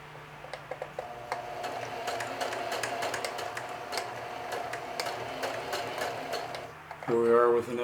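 Sewing machine stitching a watch pocket, running in a steady buzzing stretch with light ticking, stopping briefly before a short louder mechanical whir at the end.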